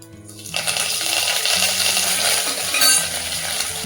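Mustard seeds, cumin and curry leaves crackle and spit in hot oil, a dense, steady sizzle that swells suddenly near the start and keeps up with scattered pops and faint utensil clinks.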